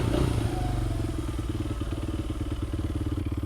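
A Honda CRF100 dirt bike engine idles close by just after a kick start, a steady, rapid, chugging single-cylinder putter with a slightly louder burst at the very beginning.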